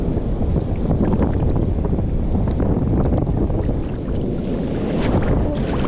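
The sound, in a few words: strong wind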